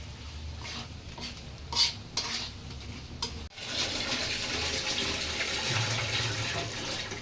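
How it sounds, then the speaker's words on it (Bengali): Onion masala is stirred in a cooking pan for a rohu fish curry with okra, potato and tomato, starting as a few scraping, clattering strokes, then after a short pause settling into a dense, continuous sizzling hiss. "এবার একটু সুন্দরভাবে নেড়ে দিতে হবে, খেয়াল রাখতে হবে যেন পেঁয়াজগুলো নিচে না লেগে থাকে"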